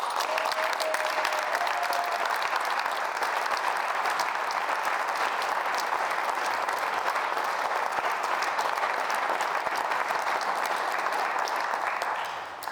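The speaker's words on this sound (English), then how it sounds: "would y'all give them a round of applause?" A theatre audience applauds a performing and backstage crew with dense, steady clapping that holds loud and continuous for the whole stretch and tapers slightly at the very end; a brief whistle-like tone shows near the start.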